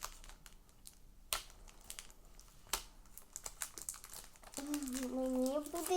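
Paper being torn and crinkled while paper surprise packets are unwrapped, with sharp rips and rustling close by, and a voice talking toward the end.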